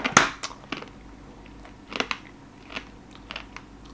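Sharp crunching bites into a hard candy flower made with a 3D candy pen, a loud first crack followed by several smaller crunches and chews, close up with quiet between.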